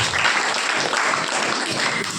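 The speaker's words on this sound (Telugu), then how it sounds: "చప్పట్లు కొట్టి ప్రభువు" A congregation at a fasting prayer service led by Pastor J. Jayarao claps for the Lord, a loud, dense burst of many hands beating steadily together, filling the room without any speaking.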